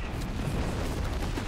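Double mortar fire in a World War II strategy game, a dense rumbling barrage of low booms blending into a continuous, heavy roar without clear separate blasts.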